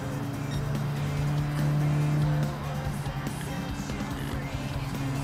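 A compact car in Gran Turismo 7 overtakes the player, its steady engine drone swelling louder as it draws alongside, then settling back under continuous racing noise.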